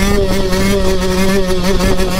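A motocross motorcycle engine revs loud and close, a steady buzzing drone with a rapid pulsing rhythm throughout, heard alone.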